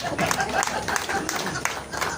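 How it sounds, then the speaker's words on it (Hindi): Audience at a Hindi kavi sammelan poetry recital applauding, a dense, steady patter of clapping under a voice, continuing evenly for about two seconds. "प्रेम का मतलब थोड़ी सी तालियां बढ़ा"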